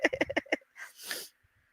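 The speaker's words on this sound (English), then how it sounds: "I done sneezed about 10 times this morning." After a quick burst of voice-like sounds, a woman gives a single sharp, close sneeze with a breathy, hissing release, then silence.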